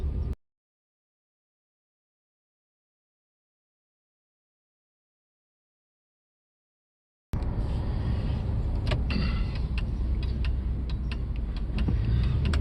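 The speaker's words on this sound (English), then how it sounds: "So again, I'm driving." Inside a moving car: a steady low road-and-engine rumble with faint rattles, which starts abruptly after a long stretch of silence and carries on to the end.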